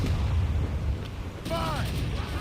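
Ship cannons fire in the Assassin's Creed Rogue video game, with heavy booming blasts and rumble during a naval battle, loud and close, ending in a creaking metallic ring.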